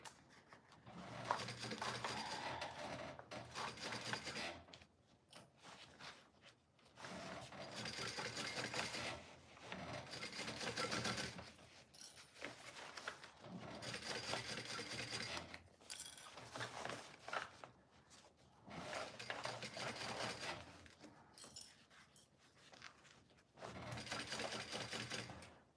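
A sewing machine stitches a safari duffle bag lining in repeated loud bursts of rapid mechanical chatter, separated by brief pauses, with no one talking.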